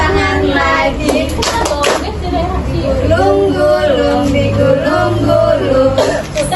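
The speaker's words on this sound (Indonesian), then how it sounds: "tepuk tangan lagi" A group of children clap their hands in short bursts during a clapping song, the claps close and loud among singing voices and chatter.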